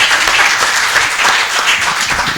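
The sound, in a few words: audience applause for the professor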